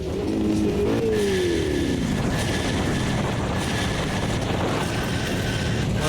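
Rally car in the racing game Automobilista 2, its engine note sweeping down loudly at the start and then a steady harsh roar with scraping noise as it crashes, continuous throughout.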